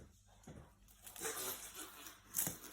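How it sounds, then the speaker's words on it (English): A child tearing open a toy wrapped in masking tape, with scattered ripping, crinkling and scratching bursts close by, including a sharp tear toward the end, faint and irregular. "do you want to unwrap one of your toys?"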